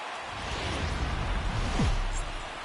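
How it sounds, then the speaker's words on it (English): Steady rain hiss over a ballpark in the baseball video game MLB The Show 19, a continuous broadband wash at even loudness with a brief whoosh near the end. "There is rain in the area, but we've been given the go-ahead to get this one started"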